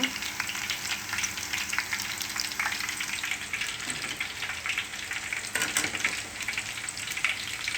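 Eggplant pieces fry in a pan with a steady, close crackling sizzle, plus a few faint stirring scrapes, and nobody speaks.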